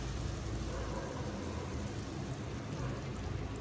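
Eggs frying in an aluminium pan for egg bhurji, a steady close hiss and crackle of sizzling that carries unbroken from start to end with no voices over it.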